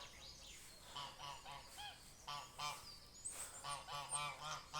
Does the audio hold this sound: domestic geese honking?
yes